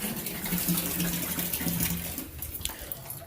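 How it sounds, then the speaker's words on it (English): Bath water runs from the tap in a steady, close rushing gush that softens toward the end as the flow eases. "let me turn off my bath water"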